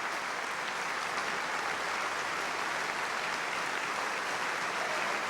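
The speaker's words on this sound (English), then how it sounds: "Tremendous roar of applause for Della Jones as Valenciennes and Graham Clark as Camille de Rosillon" A large opera audience at the London Coliseum gives steady, dense applause, a continuous roar of clapping for singers in an English National Opera production of Lehár's The Merry Widow.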